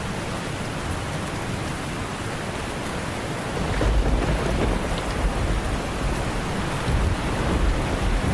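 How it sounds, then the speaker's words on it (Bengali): Heavy rain pours steadily as a thunderstorm rumbles, the low roar of thunder swelling partway through and lingering under the downpour. "ঝড় থেমে যায়।"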